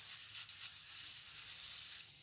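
A steady, faint airy hiss of an airbrush spraying paint on model tips runs throughout, with slight pulses near the start and no talking.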